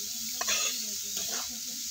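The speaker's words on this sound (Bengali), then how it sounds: "মশলার সাথে কিন্তু মূলোটাকেও একটু ভেজে নিয়েছি।" Radish stir-frying with spices in a pan, a soft steady sizzle with a couple of brief stirring scrapes, fairly quiet.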